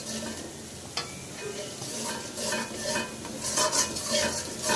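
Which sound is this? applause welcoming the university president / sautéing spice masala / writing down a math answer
sautéing spice masala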